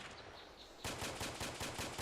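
Automatic gunfire in a military video game starts abruptly after a quiet moment, a rapid regular burst of loud shots close by with no talk.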